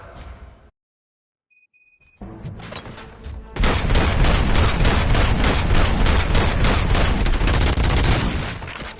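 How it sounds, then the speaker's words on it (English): Gunfire breaking out at a corporate presentation, preceded by a brief silence and a few faint bell-like tones, then a loud, sustained burst of rapid, overlapping shots rattling on for several seconds before easing slightly. "Gunshots? What's going on?"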